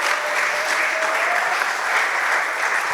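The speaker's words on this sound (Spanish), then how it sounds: "denle un aplauso al Señor." A church congregation claps for the Lord after a Spanish sermon, a steady even wash of applause filling the whole stretch at moderate level with no voice over it.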